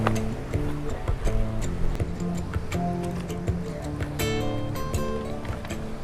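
Beach rocks jostle in the surf on the New South Wales south coast, giving a dense stream of close clicks, clacks and ringing knocks over a steady rush of water.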